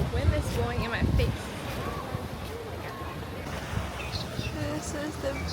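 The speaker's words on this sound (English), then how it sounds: "The wind is blowing in my face." Strong wind buffets the microphone on a Hawaii beach, a steady roaring gust with surf and voices talking underneath, loud and close throughout.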